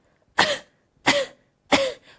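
Three sharp, separate coughs at a steady pace, close and fairly loud, with brief silence between them and a softer fourth puff at the end.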